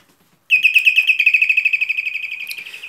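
A canary-song electronic doorbell plays a rapid, warbling birdlike trill, bright and loud, pulsing quickly for a couple of seconds after brief silence.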